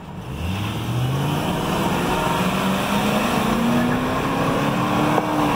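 A Toyota 4Runner driving past, its engine note rising steadily as it draws near, loud and continuous, heard from close by with no talking.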